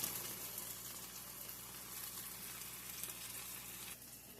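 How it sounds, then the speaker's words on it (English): Quiet, even sizzling of pancakes and sausage frying in a pan continues without a break, easing slightly near the end. "We just turned our pancakes again and our sausage"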